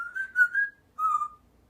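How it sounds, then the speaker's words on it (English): A pet talking bird whistles a short song: two clear, bright melodic phrases close by, the first longer and wavering, the second shorter after a brief pause, with no talking. "I want you to whistle me a nice song"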